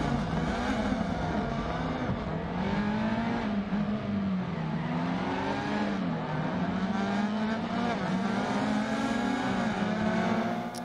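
Rally car engine in DiRT Rally 2.0, a rallycross S1600 or R2 class car droning steadily near and loud, pitch rising and dipping through gear shifts with no talking.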